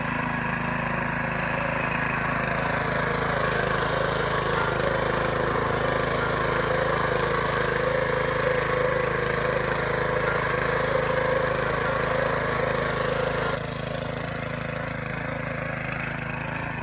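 A mini power tiller's small engine runs steadily and loud throughout, a constant mechanical drone with a slight drop in level near the end.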